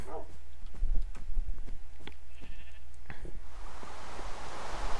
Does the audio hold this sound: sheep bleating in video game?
yes